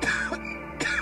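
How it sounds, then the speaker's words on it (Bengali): A man in a Bengali horror audio drama gives two short, rough coughs close by, separated by a brief pause. "কাশি শুরু হলো।"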